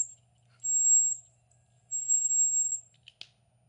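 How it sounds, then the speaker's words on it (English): A small DIY ultrasonic mist maker in a little case gives a thin, high electronic whine in two separate bursts, followed by a short sharp click of a button being pressed, with little other sound around it. "That's ultrasonic that you just heard. And this is a mist maker."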